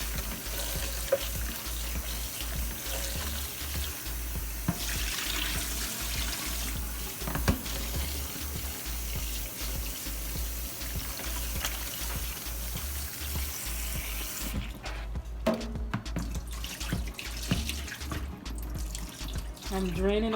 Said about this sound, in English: Now I'm going to be washing my shrimp in cold water.